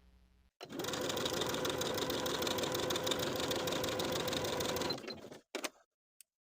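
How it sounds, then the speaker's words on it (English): A sewing machine runs steadily at long stitch length, sewing gathering stitches through a skirt piece. A fast, even mechanical whir lasts about four and a half seconds, then stops with a few brief clicks. It is close and clear, with no talking. "we're going to sew gathering stitches from one side to the other using the longest stitch on your machine"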